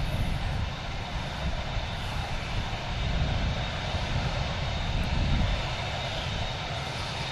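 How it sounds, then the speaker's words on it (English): A Ryanair airliner touches down at Budapest airport, heard as a continuous, fairly distant engine roar and rushing noise that holds steady throughout with slight swells. "The Ryanair just touching down here, guys, the Budapest."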